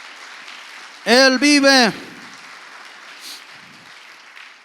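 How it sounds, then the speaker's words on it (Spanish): Congregation applause bursts out in a church service in Spanish, loud and close for under a second between shouted preaching, then fades into room murmur. "¿Puedes darle un aplauso al nombre de Dios?"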